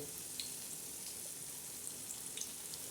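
Batter of jaggery, wheat flour and rice flour for malpua sizzles and crackles steadily in boiling oil, a soft continuous hiss with scattered pops and no voices.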